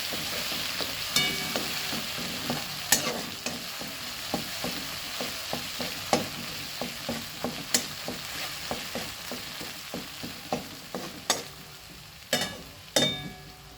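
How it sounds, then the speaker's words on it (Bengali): Poppy seed paste frying in hot oil with the gas turned off, a soft sizzle under repeated sharp scrapes and taps of a spatula stirring at close range, with no talking. "পোস্ত বাটাটা তেলের মধ্যে ভালো করে ভাজা ভাজা করে নেব।"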